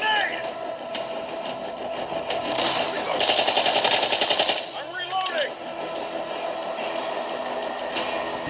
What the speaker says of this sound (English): Bro, I'm getting shot by all angles.